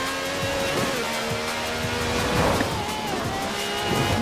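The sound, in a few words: V12 car engine revving in Forza Horizon 4 video game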